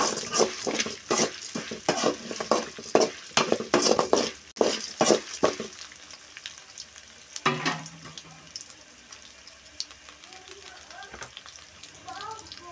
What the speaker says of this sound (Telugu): 1 స్పూను జీలకర్ర అండి, అది వేసుకుంటున్నా. వేసుకొని బాగా వేంపుకోవాలండి.